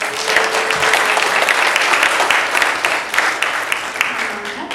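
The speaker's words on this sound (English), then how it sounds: "let's give a round of applause for Zoe." A church congregation claps for a child at a Sunday service, steady dense applause filling the room for the whole stretch, loud and close with no pause.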